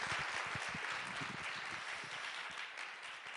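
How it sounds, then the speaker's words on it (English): Audience applause at the close of a panel discussion at an international conference on women and peace: a steady, sustained wash of many hands clapping at moderate distance, slowly easing in level, with no talk over it. "please join me in a warm applause for our fantastic panelists."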